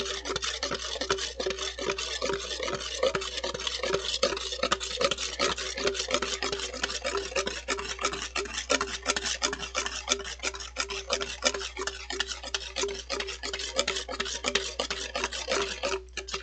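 Spoon or whisk scraping a bowl while mixing dalgona coffee, a fast, continuous run of rasping strokes in a steady rhythm, close and fairly loud throughout.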